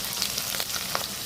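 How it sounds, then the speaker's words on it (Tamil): Mustard seeds, fenugreek, onion, curry leaves, garlic and dried red chillies frying in sesame oil for a garlic pepper kuzhambu, giving a soft, steady sizzle with a few faint crackles and stirring scrapes. "நல்லெண்ணெய், கடுகு, வெந்தயம், பெரிய வெங்காயம், கருவேப்பிலை, பூண்டு, காஞ்ச மிளகாய் இதெல்லாம் போட்டு வறுத்துடலாம்."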